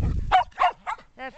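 Puppies out of a basket on grass give several short, yippy barks in a quick uneven series, close by, with faint low rumble underneath.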